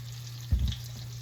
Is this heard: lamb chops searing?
yes